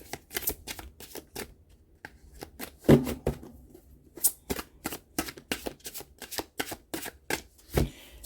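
Tarot cards being shuffled by hand, a run of quick crisp riffling bursts and taps in uneven rhythm, close and fairly quiet with no talking.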